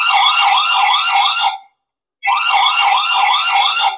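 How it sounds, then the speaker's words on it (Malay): A loud electronic alarm siren wails in two long bursts, warbling up and down, separated by a brief silence. "boleh saja onkan kita punya alarm"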